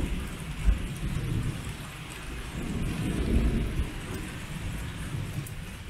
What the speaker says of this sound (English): Nothing like a good storm, though.